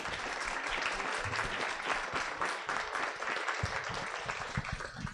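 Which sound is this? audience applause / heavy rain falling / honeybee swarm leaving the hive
audience applause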